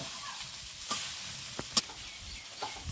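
Low, steady sizzle of potatoes frying in oil for a Bengali dal, with a few sharp clinks of a spatula against the pan and soft stirring scrapes.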